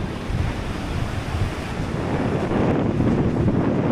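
Strong coastal wind roars across a New Zealand shoreline, a steady, loud, broadband rush that swells slightly toward the end, with surf washing beneath it and no voices.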